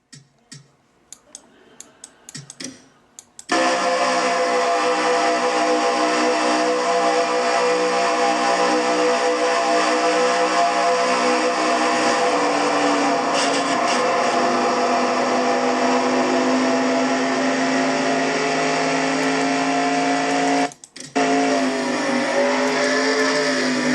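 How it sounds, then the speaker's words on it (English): Onboard engine roar of a Traxxas Truck Series race truck at Winstar World Casinos 350k, a loud, sustained high-pitched drone with a brief dip near the end, preceded by quieter clicking before it kicks in. "Now from on board Zed Weinstein's truck."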